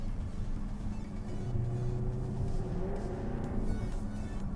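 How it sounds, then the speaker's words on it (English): A Jaguar F-Type sports car engine rumbles with a deep, steady idle and slight rising revs, close and continuous with no talking. "the car sounds good"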